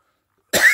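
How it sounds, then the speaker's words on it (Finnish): A single small, light human cough bursts out suddenly after silence, short and close, with a breathy rasp. "Pieni tommonen hentonen yskäsy tuli."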